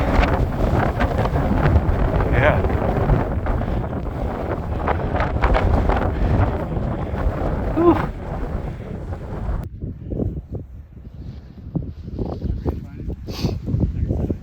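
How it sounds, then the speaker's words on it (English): Strong howling wind in Montana roars and buffets the microphone for most of the stretch, then eases into gusty bursts while a person briefly speaks and exhales. "Wind really picked up a lot. It's howling."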